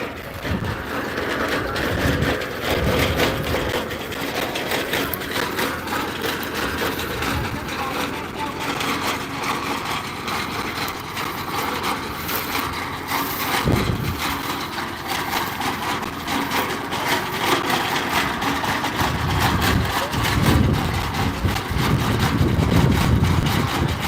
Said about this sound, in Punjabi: ਆ ਕਟਰ ਨਾਲ ਮੂਲੀ ਕੱਟੀ ਜਾਂਦੀ ਆ ਦੇਖੋ ਕਟਰ ਹੋ ਗਿਆ ਸਟਾਰਟ